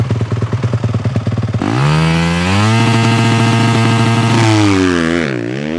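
A motocross motorcycle opens with a rapid, buzzing idle, then revs hard for a race start, the engine note climbing and holding at a loud, sustained high pitch before dropping back as it eases off.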